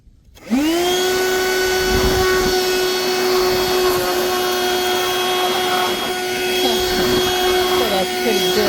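AUDEW handheld vacuum cleaner switching on with a rising whine, then a steady loud motor drone with a high tonal whistle, running continuously up close, small rattles as it moves.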